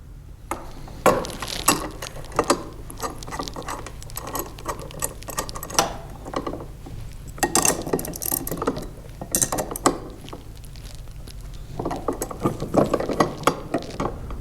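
A wrench tightens a lock nut on a Ryobi 40V 21-inch CheckMate mower bracket, close-up with repeated ratcheting clicks and metallic turning in irregular bursts, with no talking.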